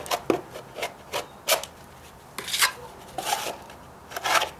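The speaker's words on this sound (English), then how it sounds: "Try to get it all out of my pan." Trowel scraping leftover stucco patch out of a pan, a series of short rasping scrapes in an irregular rhythm, close and fairly loud, with no talking.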